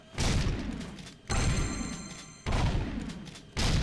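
Four heavy gunshots ring out in a video game, evenly spaced about a second apart, each a loud booming blast with a short decaying tail.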